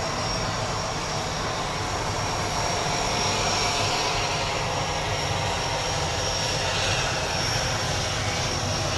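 A 1956 Convair CV-580 propeller airliner passes overhead, its loud, steady, broad engine roar filling the air throughout.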